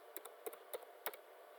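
Light clicks of a computer keyboard being typed on, a few short quiet taps in an irregular rhythm over near silence.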